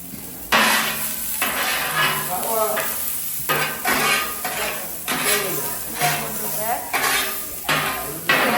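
Rapid metallic clanging of blades chopping kottu roti on a hot griddle, a busy rhythmic clatter with sizzling underneath, loud and close.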